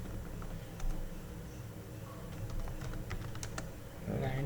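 Computer keyboard keys clatter in quick irregular bursts, close and fairly quiet, with a few sharper key strikes near the end.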